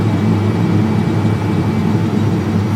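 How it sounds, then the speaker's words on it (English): Boeing 737 reverse thrust on landing at Honolulu in a flight simulator, a steady, loud, low engine roar that rumbles continuously without letting up. "Okay, reverse thrust."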